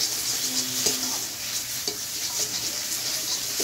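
Spices for a gourd and egg curry are stirred and fried in a pan, giving a steady soft sizzle with light scraping strokes of the spoon throughout.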